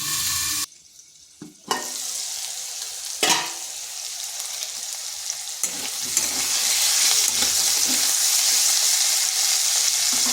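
Potatoes frying in a pan make a loud, continuous sizzle that swells over about ten seconds, broken early by a short quiet gap and a few sharp clatters of a utensil. No one speaks.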